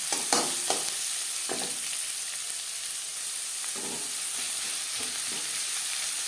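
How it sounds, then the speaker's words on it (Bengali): Onions frying in a pan, a steady hissing sizzle broken by several scraping stirs, close and even in level with no speech. "পেঁয়াজ লালচে করে ভেজে নেব।"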